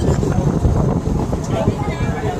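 Steady wind rushes across the open sea aboard a boat off Mumbai, a loud broadband buffeting that fills the whole stretch with little variation.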